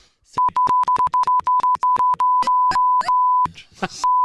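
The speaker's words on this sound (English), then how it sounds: "Just sounds like beep beep beep beep beep beep" A steady electronic beep tone cut into rapid choppy bursts, with a few short stretches of voice between them and a final sustained beep.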